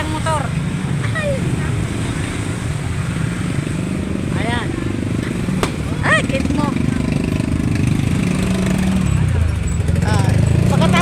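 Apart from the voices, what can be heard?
motorcycle parade passing by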